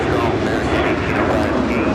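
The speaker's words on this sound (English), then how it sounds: "The next arrival on 28 Center is Austrian Airlines Dreamliner, Flight 65, coming in from Vienna" A Boeing Dreamliner airliner arriving on runway 28 Center at Chicago O'Hare gives a loud, steady engine roar at close range, a broad continuous rumble that fills the whole moment without pause.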